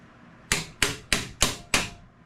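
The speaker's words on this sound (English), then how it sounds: "There we go. The good old hammer." Five sharp metallic hammer blows strike a car part on a boosted car build, evenly spaced about a third of a second apart, each ringing briefly before the next, close and loud with no talk.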